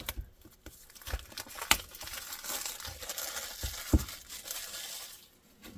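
Plastic wrapping crinkles and crumples as it is pulled off a box holding an Olight Javelot ODG flashlight, with a steady close rustle broken by a few sharper snaps and crackles.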